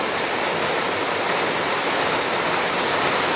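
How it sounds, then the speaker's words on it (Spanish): A small waterfall of about three metres near Tamul roars steadily and close, a dense unbroken rush of falling water with no voices. "Ya estamos sobre la cascada. Una cascada con una caída de 2, 3, 4 metros"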